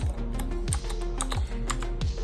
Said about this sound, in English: I guess it's a brown key keyboard. Not too loud.